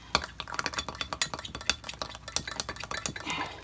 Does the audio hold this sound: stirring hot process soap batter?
yes